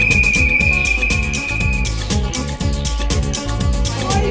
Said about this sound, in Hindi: उनकी सीटी बजती है